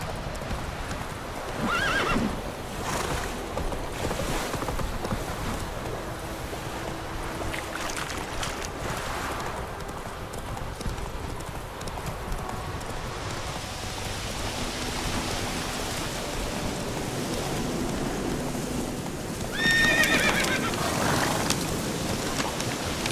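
Horse in The Witcher 3 game galloping with a steady clip-clop of hooves over rain and ambient noise, with a sharp whinny near the start and another loud neigh near the end.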